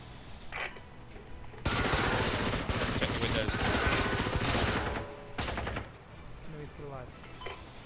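Dense bursts of gunfire from a tactical shooter in Ground Branch, firing through windows, loud and sustained for several seconds with a brief pause before a final burst, quieter room noise around it.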